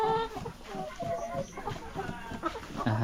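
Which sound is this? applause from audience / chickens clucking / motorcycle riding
chickens clucking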